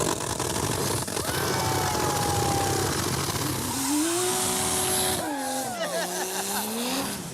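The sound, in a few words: turbo Toyota 2JZ-swapped Death Metal Charger driving hard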